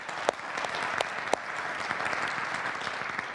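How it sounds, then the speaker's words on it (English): Applause from a university audience at a State of the University address, steady and fairly loud throughout with a few sharp individual claps standing out near the start. "That's worth a round of applause."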